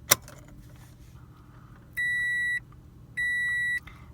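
Two long, identical electronic chime tones from a 2015 Toyota RAV4 switched on without the engine starting, each lasting about half a second with a short gap between, clear and close inside a quiet cabin after a soft click.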